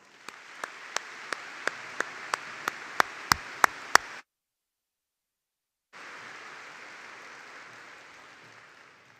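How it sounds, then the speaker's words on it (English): Audience at the Buford High School 2022 graduation ceremony claps in a broad, steady wash with sharp louder pops on top, then breaks off into a gap of silence before the applause resumes at a similar level. "students, I think they deserve a round of applause"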